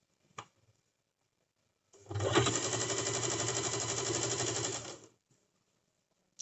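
A sewing machine runs in one steady burst of about three seconds while stitching a cigar pant, its rapid even whir close and loud, set between quiet pauses and a couple of light clicks.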